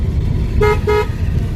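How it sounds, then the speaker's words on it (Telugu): At a four-road junction, a car horn gives two short, loud toots close by over the low rumble of the idling car. "హారన్"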